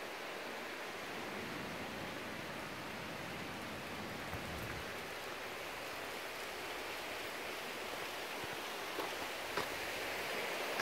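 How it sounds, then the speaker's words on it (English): River water flows steadily below Saltburn Viaduct in the woods, a broad, even rush heard from high above, constant and unbroken with no voices. "Now we're just above the river now. As you'll be able to hear from the water."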